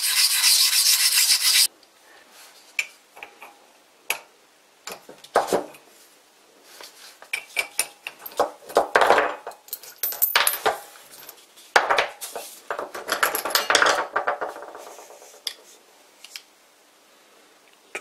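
A 400 grit diamond hone rubs and scrapes against metal in short, irregular strokes, with a brief louder burst at the start followed by scattered close-up scraping and faint handling noises.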